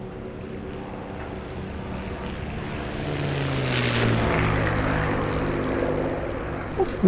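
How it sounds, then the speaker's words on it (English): A propeller aircraft engine roars through a takeoff in a flight simulator game, a steady loud drone that swells and rises in pitch as power builds, heard alone without talk. "That looked like a very nice takeoff, Niels."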